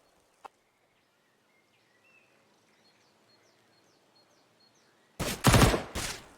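MP9 submachine gun fire in Counter-Strike on the Inferno map: a single faint pop, quiet birdsong, then two loud close bursts of rapid shots near the end.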